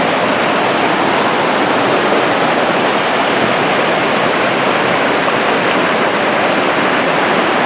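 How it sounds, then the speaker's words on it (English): Laughing Water Creek near Mt Rainier rushes strongly, a dense, constant roar of whitewater filling the scene without pause, loud and close, with no voices. "We've reached Laughing Water Creek, which is really flowing today."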